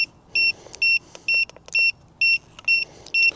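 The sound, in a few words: annoying beeping from a faulty photography flash unit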